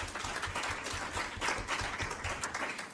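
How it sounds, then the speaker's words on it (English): Audience applause for panelists at an ACT3 event in Nairobi, a steady dense wash of clapping from a crowd, fairly loud and continuous throughout with no talk over it. "a round of applause for the panelists, for the amazing panelists who are doing amazing things"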